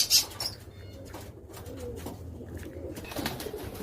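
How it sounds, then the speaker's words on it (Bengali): Faint cooing from a crowd of pigeons at a pigeon farm, with an occasional flutter of wings, in a quiet room with no talking. "এটা খামার কবুতরের খামার ও পাখির খামার"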